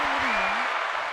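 An audience applauds after a live song performance, a brief dense wash of clapping with a voice briefly audible over it.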